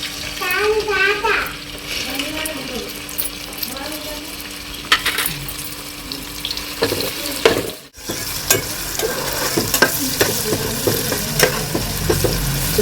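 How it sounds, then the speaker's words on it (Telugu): Onions sizzle and crackle in about a cup of hot oil as they are stirred while frying for a village-style country chicken curry, a steady close hiss with scraping stirs and faint voices in the background. "కొంచెం గోల్డ్ కలర్ వచ్చే వరకు వేయించుకోవాలి ఉల్లిపాయ ఉల్లిపాయలు ఇట్లా వేగిన తర్వాత"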